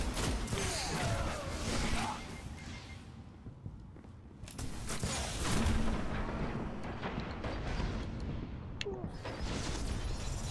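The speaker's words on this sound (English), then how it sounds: "Some kind of strange grenade that like bounced around and stuck to me." Grenade blasts and heavy weapon fire boom through a Destiny Crucible multiplayer match, a dense, loud barrage of overlapping explosions that keeps rumbling for several seconds with only brief lulls.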